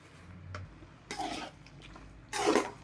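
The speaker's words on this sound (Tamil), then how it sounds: "நல்லா எல்லாம் கலந்துக்கலாங்க" A spoon stirring egg vegetable chapati kothu together with kurma in a pan, two soft scraping, mixing bursts a second apart, quiet and close with no talk.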